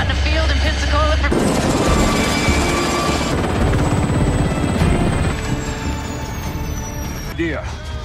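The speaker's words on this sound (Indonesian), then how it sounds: "Diantar dengan helikopter tua yang masih menggunakan teknologi manual, Tom akhirnya mendarat di atas kapal USS Nat" An old helicopter flies in a film scene, its loud, steady rotor chop and turbine whine filling the soundtrack throughout, with a voice speaking over the din.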